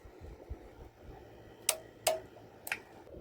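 A torque wrench gives three sharp, isolated clicks while engine bolts are torqued down during an engine rebuild, spaced roughly half a second apart over a faint background hum.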